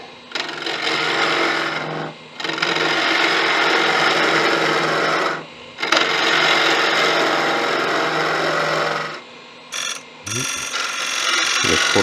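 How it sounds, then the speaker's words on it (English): Spindle gouge cutting into a cross-grain wooden lamp piece spinning on a lathe, producing long loud rasping cuts of a few seconds each separated by short pauses, then quicker intermittent scrapes at the end. "I'm going to get in there with a spindle gouge to get that, as much of that as I can"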